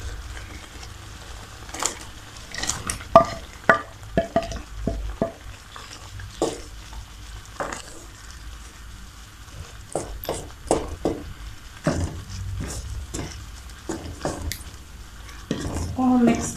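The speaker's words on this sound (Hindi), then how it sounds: "अब मैं इसके अंदर डालूँगी चिकन जो हमने रेडी किया था मंचूरियन के लिए" Chicken for Manchurian dropped into a hot pan and fried, with repeated clanking stirs of a utensil against the pan over a low sizzle, irregular and fairly close.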